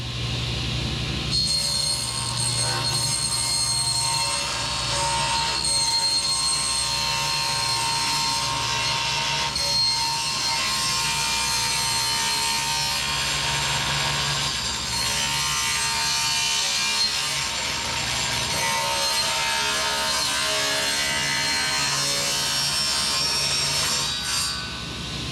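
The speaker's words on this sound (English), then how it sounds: "I'm set up here ready to cut a fresh sheet of plywood" A saw rips lengthwise through a fresh sheet of plywood, a continuous loud, gritty cutting roar with a few brief dips as the sheet feeds through, running for about twenty-five seconds with no talk.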